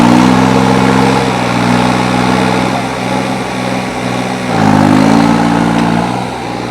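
Modified New Holland tractor engine running steadily close by, a loud continuous diesel drone with a brief rise in pitch near the end before settling back.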